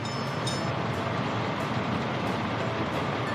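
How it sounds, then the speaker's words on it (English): A coal train in Workers & Resources: Soviet Republic rumbles along the rails with a loud, continuous roar and faint rhythmic clatter, heard up close with no talking. "This is our coal train, our self-sufficiency."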